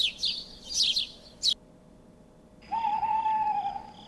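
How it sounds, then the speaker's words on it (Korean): A few sharp high chirps come first, then after a short pause an owl gives one long, steady hoot, clear and fairly close. "부엉이"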